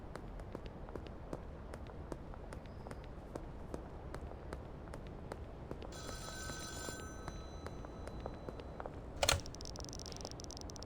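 A payphone rings inside a crime video game, a bright telephone bell burst heard briefly mid-clip over a steady backdrop of game ambience and rhythmic footsteps, with a sharp click near the end.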